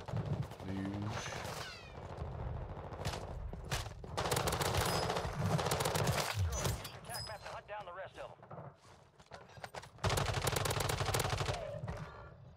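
Rapid machine gun fire in a Call of Duty match on Rebirth Island, loud sustained bursts broken by short pauses, mixed with game effects while a player talks over it.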